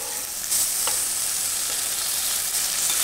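Sliced onions, tomato and curry leaves fry in a pan for a mushroom biryani, giving a steady, close hiss of sizzling oil with faint stirring scrapes and no voices.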